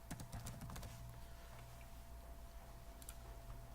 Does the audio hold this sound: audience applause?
no